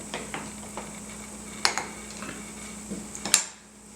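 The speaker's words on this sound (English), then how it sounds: "Let's give this a little stir." Spoon stirring milk in a cup beside a coffee syphon setup; a few light clinks and taps, two sharper ones near the end, over a steady low hum, with no talk.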